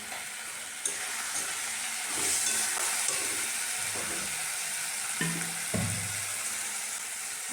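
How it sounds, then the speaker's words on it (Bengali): Masala for a chicken curry sizzles steadily in a pan, a continuous frying hiss broken by a few soft stirring scrapes, close and fairly loud with no voices. "সব দিয়ে কষিয়ে নেবো 5 মিনিট। লবণটা দিয়ে দিলাম।"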